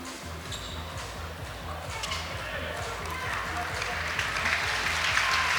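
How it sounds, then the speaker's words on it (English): Crowd applause in an arena at a university basketball game, UP against Korea University, a dense steady wash of clapping that swells slightly over several seconds, mixed with rhythmic court thumps and background noise. "an applause from the crowd"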